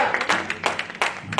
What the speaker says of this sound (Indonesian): Boleh tepuk tangan dulu untuk tim PMO.